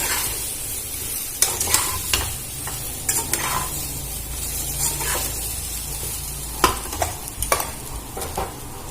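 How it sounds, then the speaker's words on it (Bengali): Elephant foot yam frying with chili powder and turmeric in a pan, stirred continuously over a steady sizzle, with repeated scraping strokes and spoon clacks against the pan throughout. "আমি দিয়ে ভালো করে নাড়াচাড়া করে ভেজে নেব"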